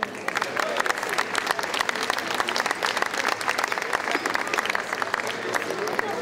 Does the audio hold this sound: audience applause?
yes